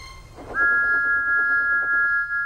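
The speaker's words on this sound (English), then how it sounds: "Thomas's whistle soon woke them up." A toy steam engine's whistle gives one steady, sustained high tone lasting about two seconds over a soft background rumble, fairly clear and close.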